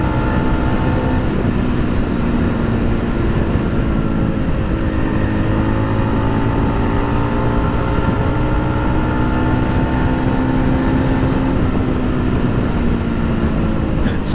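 A 2024 Yezdi Roadster motorcycle cruising in fifth gear after shifting up around 100–105 km/h gives a steady, loud engine drone with layered harmonic hum and constant wind rush, close and continuous throughout.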